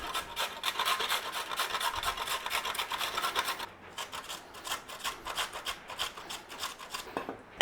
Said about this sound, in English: We want to be grating our carrot in there.